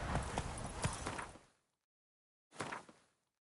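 Hoofbeats from Geralt's horse Roach in The Witcher 3, a loose clattering burst that cuts out abruptly and resumes for a shorter spell after a second of silence.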